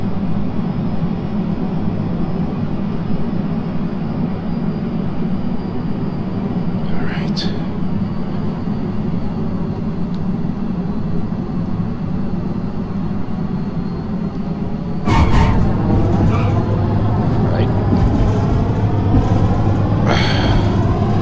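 Boeing T-45C Goshawk jet engine in an FSX flight simulator touch and go: a steady, loud low roar throughout, jumping in level partway as power comes up, with a voice talking over it.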